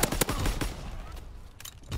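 M1 Garand rifle fire in a World War II video game: several quick shots in an irregular burst, fairly quiet, mixed with other battle noise.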